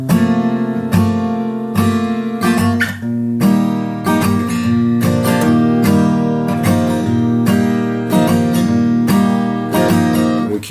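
Acoustic guitar strumming the chord progression of a song, steady down-up strums with ringing chords and a few chord changes, close and loud with no voice.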